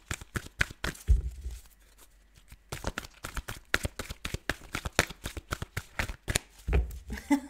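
Tarot cards being shuffled, rapid riffles and flicks in an irregular rhythm with a few soft thumps, close and fairly quiet.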